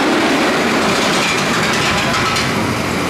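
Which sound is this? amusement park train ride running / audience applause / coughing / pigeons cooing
amusement park train ride running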